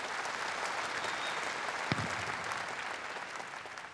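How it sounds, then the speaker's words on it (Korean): An audience at a Korean War anniversary ceremony gives sustained applause to choirs and a military band, a thick, even roar of clapping from a large crowd that holds steady and tapers slightly near the end. "모든 공연자들에게 다시 한번 큰 박수를 보내주시기 바랍니다"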